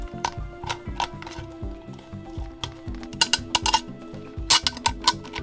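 Hand tools punch and pry holes in a thin metal soup can for a hobo stove, giving a close run of sharp metallic clinks and taps with brief pauses, then louder clustered bangs near the end.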